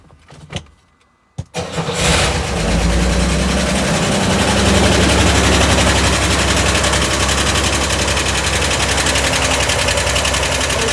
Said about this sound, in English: Engine noise, so don't want to leave it run long